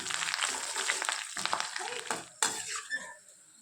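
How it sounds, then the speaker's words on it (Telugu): Chana dal, garlic, curry leaves and dried red chillies fry in oil for a tempering, a close, steady sizzle with scraping stirs and a sharp clink of a spoon against the pan. "బాగా వేయించుకోవాలండి. తడి అనేది ఏమీ ఉండకూడదు."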